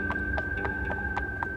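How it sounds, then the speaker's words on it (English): A horse's hooves clip-clop at a steady walking pace as a cowboy rider comes up to a crossroads, several light, evenly spaced hoofbeats over a faint background hum. "a cowpoke came riding up on a horse"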